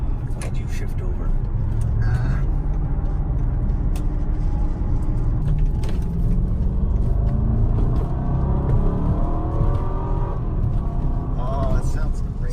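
A 2005 BMW 645ci with a 4.4L V8 accelerates hard on a test drive, a loud, steady cabin rumble with engine tones climbing in pitch as it gathers speed, while voices talk faintly over it.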